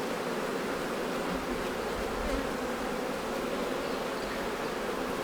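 A thick, continuous buzz of a crowd of honey bees up close on an Apidea mating nuc, steady and unbroken throughout.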